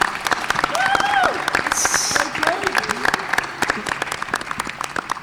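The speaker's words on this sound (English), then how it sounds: "a nice round of applause for Jordan" Applause from a crowd at a high school athletic signing event for a soccer player, steady clapping throughout with an announcer's voice and cheering over it.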